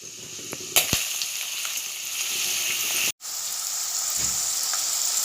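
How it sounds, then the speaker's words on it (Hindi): Chopped onions hitting hot oil with whole garam masala spices in a home kitchen pan for mutton kheema, a steady hiss and crackle of frying after a sharp clatter, continuous and close with no talk. "ये देखिए, तेल में मैंने कटी हुई प्याज डाली हूँ।"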